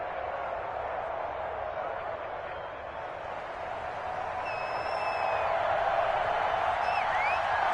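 A stadium crowd in an EA Sports NFL video game, Baltimore Ravens against Philadelphia Eagles, roars as a steady dense wash of noise that swells louder toward the end, with a commentator's voice over it.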